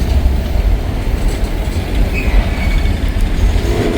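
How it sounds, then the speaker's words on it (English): A light, nearly empty train brakes hard from speed down to a crawl near Hamilton, Ohio, giving a loud, continuous rumble of wheels on rail with a brief squeal partway through and no voices. "He just slammed on the brakes."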